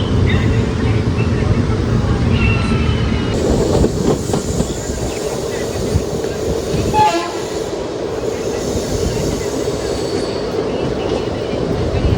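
The Coimbatore–Shoranur passenger train at Ettimadai station below the Western Ghats hills, a loud continuous rumble and clatter of rail cars close by, with a horn blast partway through.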